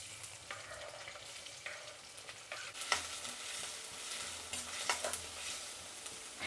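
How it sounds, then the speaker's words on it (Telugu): Onions frying in hot oil in a kadai for a restaurant-style red chicken gravy, a faint continuous sizzle broken by light stirring scrapes and small clicks. "ఆయిల్ వేడెక్కిన తర్వాత ఎర్రగడ్డలు వేసుకుందాం"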